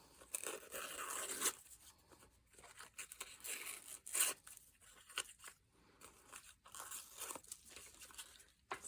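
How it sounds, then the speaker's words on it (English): Damp paper being ripped along its edge for a handmade lap book journal: a close, quiet tearing rasp with soft crunchy crackles, in a few short bursts separated by pauses, with no speech. "if we rip it while it's still a little wet, it'll rip off the edge of our back a little bit"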